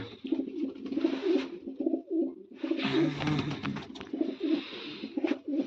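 Pigeons coo in soft, repeated low throaty phrases, close by, with short gaps between the calls.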